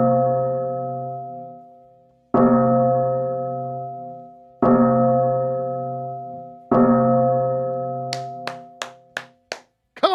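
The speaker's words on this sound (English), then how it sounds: "Is everybody ready? Let's ring that bell." A handheld bell rung for donations during a live Philadelphia 76ers free-agency stream: four loud, clear strikes, each ringing out and slowly fading, followed by a quick burst of lighter taps and clicks.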